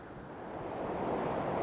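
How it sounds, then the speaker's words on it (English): Wind gusts across a rocky water hole in the bush, a steady broad roar building slightly louder over the moment, with no voices. "It's so windy."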